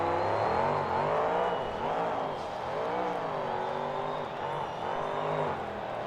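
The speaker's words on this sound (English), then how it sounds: "He gets the truck refired." Monster truck at a 2008 KORR Monsters freestyle show in Jacksonville, Florida, roaring back to life after stalling in the air, its engine revving in continuous rising and falling surges, loud and close, with crowd and arena din underneath.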